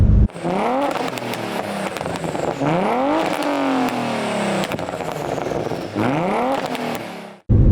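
A MK6 VW GTI engine revs hard over a slipping clutch, climbing in pitch and dropping back in several loud close surges separated by brief pauses, with no talking.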